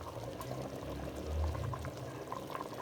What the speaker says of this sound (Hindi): और जो हमने ऑयल निकाला था वो अब डालने लगे।